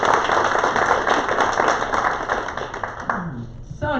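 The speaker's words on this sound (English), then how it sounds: "let's give Dan and Mary a round of applause" A crowd at a Rotary club meeting applauds with dense, steady clapping that fades out toward the end as a voice begins speaking.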